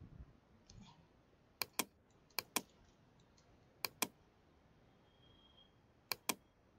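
A computer keyboard key, the Enter key, is pressed in crisp, faint paired clicks, repeated four times against a quiet room hush.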